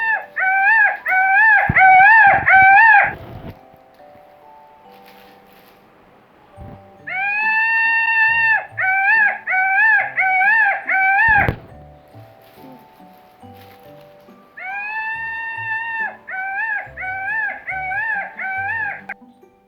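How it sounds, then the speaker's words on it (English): Peacock calls, loud, piercing honking cries repeated in three separate rhythmic bursts of several notes each, with quiet pauses in between. "Peacock."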